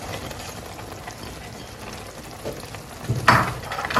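Zucchini is stirred into a corned beef and cabbage stew, a soft continuous bubbling simmer with a brief louder scrape and slosh near the end, close by and otherwise quiet.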